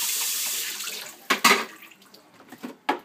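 Produce being rinsed under a running kitchen tap: a steady hiss of flowing water for about a second, then several short, uneven splashes and patters as it is handled in the stream. No one speaks.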